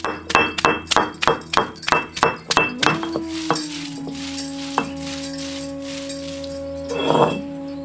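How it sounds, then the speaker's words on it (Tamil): Garlic and shallots are worked on a traditional stone grinder (ammi) for a village-style rasam. A quick run of sharp, ringing stone-on-stone knocks gives way to a steady low hum, with no voices. "20 கிராம் பூண்டு, 30 கிராம் சின்ன வெங்காயம் இதையும் அம்மியிலேயே வச்சு அரைச்சு எடுத்துக்குவோம்."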